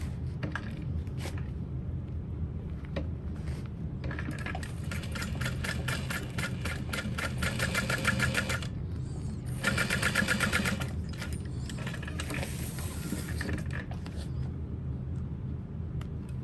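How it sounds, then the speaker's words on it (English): A sewing machine stitches a basting line across backpack fabric, running in steady bursts of motor hum with brief pauses between runs, close and moderately loud with no talking. "I'm gonna baste all that into place"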